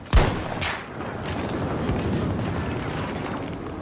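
A single loud, booming gunshot from the video game Battlefield 2042 cracks at the start, then trails into a long rumbling echo and continuous background battle noise.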